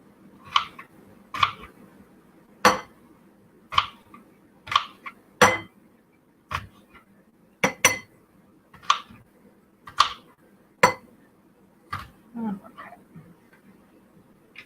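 Metal knife and utensils clinking against dishes while an apple is cut, a dozen sharp, bright clicks and taps spaced irregularly across the span over a low steady background hum.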